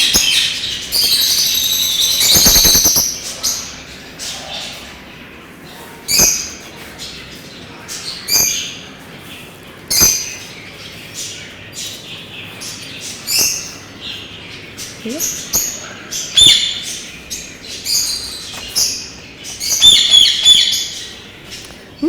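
An adult bird in a Peterhof park gives short, sharp chirps in scattered bursts, close and clear against a quiet outdoor background.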